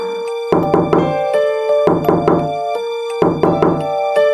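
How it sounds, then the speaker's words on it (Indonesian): Someone knocks on a house door in a village with three separate bursts of three sharp raps, set against a sustained, ringing musical tone. "Sampai Mia di rumah Haji Munir, tak lupa Abah mengetuk pintu dan mengucap salam."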